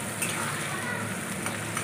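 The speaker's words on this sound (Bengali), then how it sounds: "আর পেঁয়াজগুলোকে কিন্তু আমি লাল করে ভেজে নেবো" Sliced onions frying in oil in a kadai, a dense, continuous close sizzle and crackle holding steady and fairly loud with no pauses.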